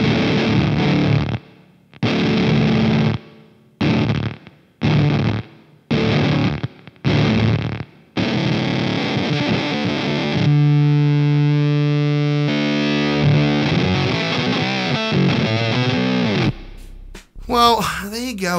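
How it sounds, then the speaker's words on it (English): An electric guitar runs through a Way Huge Smalls Stone Burner fuzz pedal: a series of short, loud fuzzy chord stabs separated by gaps, followed by long sustained fuzzed notes and a brief squealing flourish at the end. "This is the stone burner from Wayhuge. This is part of their smalls collection."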